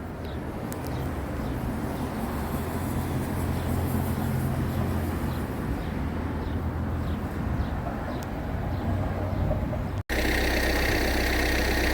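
A diesel tractor engine idles outdoors on a hot day, a steady low rumble with a faint knocking texture that runs unbroken for the whole stretch, with faint bird chirps above it and a brief cut near the end.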